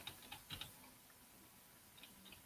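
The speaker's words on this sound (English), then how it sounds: "if you're listening to the recordings later on, you're hearing and I'm like, damn, I typed pretty hard." Computer keyboard typing close to a microphone, struck fairly hard: a few quick clusters of crisp key clicks near the start, a pause, then a couple more taps, with no talking.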